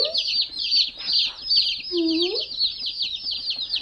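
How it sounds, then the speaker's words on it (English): Young chicks on a homestead chirp continuously in high, rapid peeps, and someone speaks softly over the nearby chorus. "Hi, little chicken."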